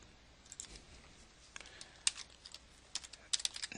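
Light clicking of fingers typing on a computer keyboard while entering a sign-in email and password, scattered quiet keystrokes that bunch into short bursts near the end.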